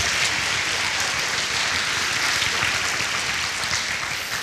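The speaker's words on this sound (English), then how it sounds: "You can clap for that." Audience applauding at a school spring band concert, a dense, steady wash of clapping from a crowd that holds at full strength for several seconds without fading.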